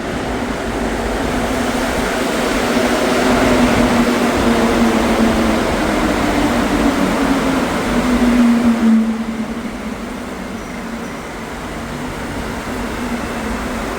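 Riding the last Montreal Metro Orange Line train of the night: a steady, loud rolling rumble with a faint tonal whine, which eases and shifts character partway through as the train changes speed.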